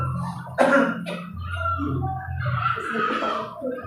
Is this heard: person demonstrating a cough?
yes